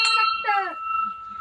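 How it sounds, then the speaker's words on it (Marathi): A small bell at a Datta temple rings clearly, with two quick strikes followed by a bright tone that lingers and slowly fades, heard up close. "छोटी घंटी."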